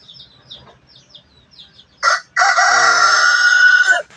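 Chickens, including a young pullet, kept in a backyard flock: a run of soft, scattered clucks gives way to one loud, close, drawn-out rooster crow.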